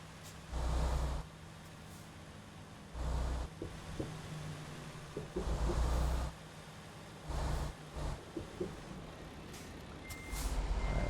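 Truck reversing beeps repeat in steady loud bursts while a heavy articulated rig backs up in a trucking video game, with low engine rumble and the hiss of air brakes between beeps.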